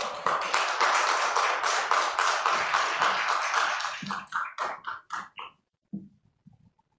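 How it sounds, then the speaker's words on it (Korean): A church congregation claps to welcome a visiting missionary pastor at a Sunday afternoon service, a loud dense burst of clapping that thins into scattered claps and dies away. "우리 박수로 목사님을 맞이하겠습니다"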